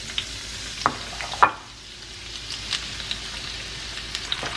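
Onions and andouille sausage fry in grease as a gumbo base, giving a steady broadband sizzle with a few sharp stirring clicks and scrapes scattered throughout.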